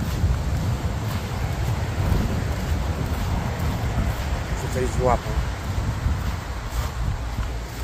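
Gusty wind buffets the microphone at a carp-fishing pond as a thunderstorm approaches, a steady low roar throughout. Someone speaks briefly near the middle.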